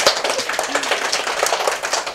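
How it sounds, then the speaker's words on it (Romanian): A small group of visiting schoolchildren at a local radio and TV station claps in quick, uneven bursts of close hand claps for a couple of seconds. "Și aplauze pentru voi că ați fost minunați."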